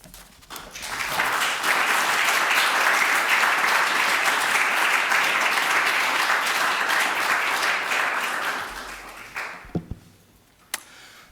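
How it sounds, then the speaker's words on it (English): An audience at a lecture applauds: dense, even clapping swells in, holds steady and loud for several seconds, then tapers off into a quiet room with a few stray noises. "Thank you all for clapping"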